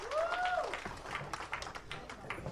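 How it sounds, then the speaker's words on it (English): Scattered clapping from an audience at a talk, sparse and uneven, with a brief whistle-like tone near the start and some crowd noise. "Right, you can clap."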